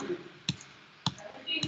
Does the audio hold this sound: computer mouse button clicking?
yes